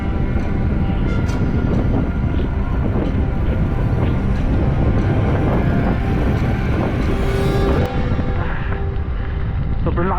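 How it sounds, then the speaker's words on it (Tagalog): Loud, continuous wind roars across a rocky, technical stretch of a mountain hike in Kayapa on Mt. Tugew, Mt. Cabo and Mt. Kabuan, Philippines, a close, unbroken rush with a voice heard faintly. "Sobrang lakas mo ng hangin."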